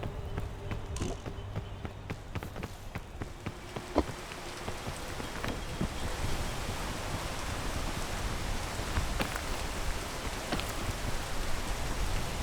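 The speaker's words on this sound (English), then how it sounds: "Ignore the rain." Steady rain in the video game PEAK, a continuous hiss of falling drops with scattered tapping, holding an even level throughout.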